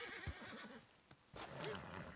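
A horse in the video game Red Dead neighs with a quavering whinny near the start and another toward the end, both fairly faint, over quiet in-game ambience.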